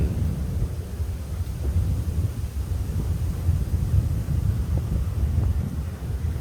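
Strong wind roars and buffets the microphone in a steady low rumble, continuous throughout with no voices.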